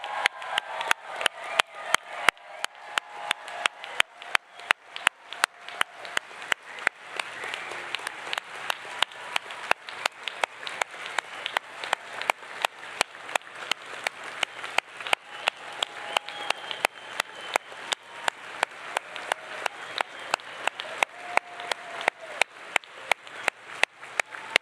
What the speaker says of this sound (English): please join me in giving one more round of applause to the graduating class of